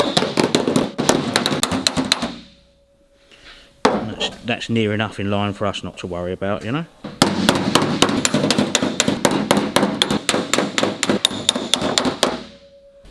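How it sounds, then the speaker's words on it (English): Loud, rapid metallic hammer blows ring out on sheet metal hammered over a flat dolly, for a 1942 Cadillac, in two long bursts, with someone talking briefly during the pause between them. "now you start hammering it over. You hold your flat dolly."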